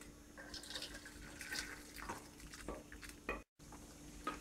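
Curry leaf soup strained through a strainer into a glass, close liquid pouring and splashing with drips and small clinks, in irregular bursts with a short silent gap near the end.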